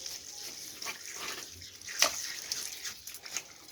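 Water splashing and trickling onto meat while a carcass is being skinned, an uneven pour with a few sharper splashes, fairly close.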